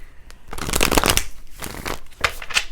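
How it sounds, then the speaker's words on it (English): Tarot cards being shuffled in quick riffling bursts, papery flutters rising and falling close by, with short pauses between passes and no talking. "I'm going to shuffle this really good."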